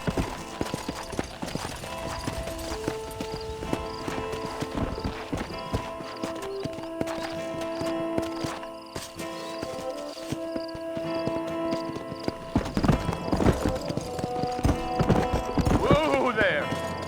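Video game horse hooves in Red Dead Redemption clip-clop steadily on hard ground, loud and close, with a horse whinnying and people talking over the rhythm.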